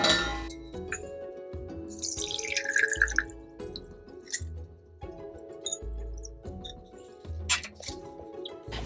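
Spiced liquid simmered on low for thirty minutes is strained in a kitchen, with drips, splashes and clinks of glass and metal, close and fairly loud, uneven, no talking.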